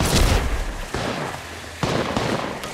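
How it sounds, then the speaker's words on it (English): Gunshots strike the player in the mobile battle royale game Apex Legends Mobile: dense bursts of firing with impacts come in three clusters, loud and close, with short gaps between volleys. "They spotted me. I'm taking shots."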